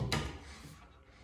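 A bathroom drawer slides open or shut in one short thump and scrape near the start, then the room goes quiet, with no voices.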